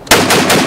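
A toy Beretta sniper rifle fires a loud, rapid burst of electronic shooting noises, pulsing in quick repeated bursts close by.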